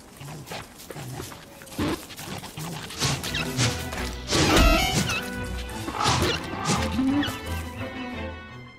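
Combat with hounds in the video game Don't Starve: dense, busy game noise with repeated smashing hits, thuds and dog-like snarls and barks, loud and continuous throughout, with a heavy crash near the middle.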